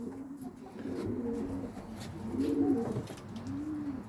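Racing pigeons cooing in a loft, several soft rolling coos repeating in a steady rhythm, fairly close and clear over a quiet background with no talk.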